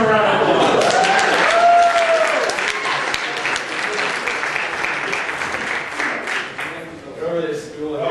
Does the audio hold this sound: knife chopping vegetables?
no